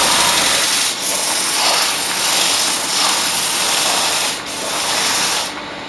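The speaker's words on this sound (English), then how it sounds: "give it a wee sand" Hand sanding of a freshly turned bandsaw wheel in a workshop, a steady broadband rasp that swells and eases in several back-and-forth passes, close and fairly loud, with no talking.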